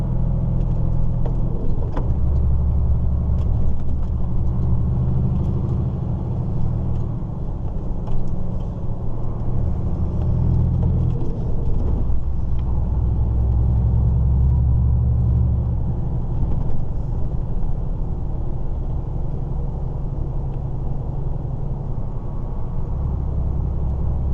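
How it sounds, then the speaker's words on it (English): A 1990 Mercedes diesel car drives along a road, its engine rumbling steadily and loud with low road noise throughout, no talking. "I drive a 1990 Mercedes diesel"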